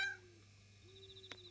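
A cat in the game Yomawari 3 gives one short meow at the start, followed by a thin sustained tone, a soft rising chirp and a brief click, all faint and quiet.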